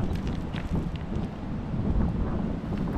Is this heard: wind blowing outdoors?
yes